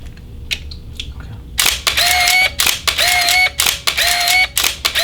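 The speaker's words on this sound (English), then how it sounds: "The shutter is really nice. It sounds nice" A Mamiya 645AF medium format camera shutter fires in a rapid continuous burst, about eight crisp mechanical clacks with slight mirror slap in quick succession, close and loud after a quiet start.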